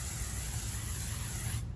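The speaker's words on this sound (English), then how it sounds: "This is texture spray." Texture spray hisses from a can onto hair in one continuous close burst lasting nearly two seconds, then cuts off abruptly into quiet.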